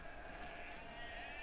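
Sheep bleat faintly in an Age of Empires match on the Arabia map, a few short game-sound bleats over a steady background hum, no talking.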